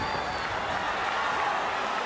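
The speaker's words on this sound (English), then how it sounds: "Listen to this crowd give their approval." A wrestling arena crowd cheers and applauds in approval, a dense, steady roar of many voices and clapping that holds at an even level throughout, with a commentator's voice mixed in.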